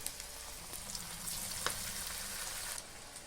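Onion bajji batter frying in hot oil, a soft, steady sizzle with faint crackles, quiet and close, with nobody speaking.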